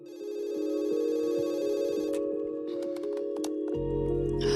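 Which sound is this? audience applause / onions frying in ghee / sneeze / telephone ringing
telephone ringing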